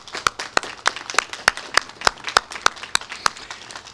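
A small group claps for dignitaries at a public event about mass vaccination sites, with sparse, distinct, evenly spaced claps close by and a faint murmur beneath.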